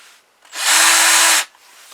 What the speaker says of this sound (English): That way I can put that in my drill bit, and that gives a good bite.